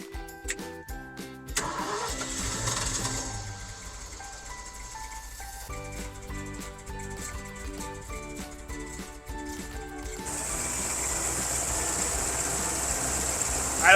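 A Ford F600 truck's carbureted engine cranks with the choke on, catches and starts, then settles into a steady rough idle, loud and close, with a few words spoken over it.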